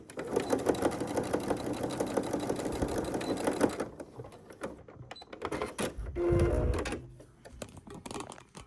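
A sewing machine top stitches a gap closed on a fabric hair scrunchie, running in a fast, steady, close mechanical chatter for several seconds before stopping, followed by quieter handling clicks and rustles.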